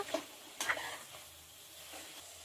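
Soya chunks frying in a pan for biryani give a quiet, steady sizzle, broken by a couple of brief stirring scrapes near the start.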